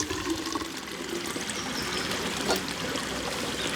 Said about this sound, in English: So let's pour in, this is the stream water now, straight in.